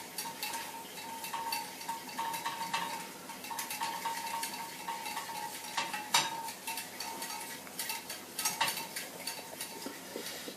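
Honey is stirred into a raw chocolate mixture by hand, giving steady scraping and clinking of a utensil against the bowl, with a few sharper knocks, close and fairly quiet with no talk.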